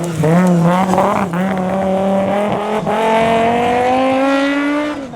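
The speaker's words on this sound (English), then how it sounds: "Paul O'Connell finally made his debut in the V10 BMW E30" A V10-powered BMW E30 race car at a hillclimb sprint in Wexford, loud and close, holding a high revving engine note that climbs steadily through the gears with brief dips at shifts.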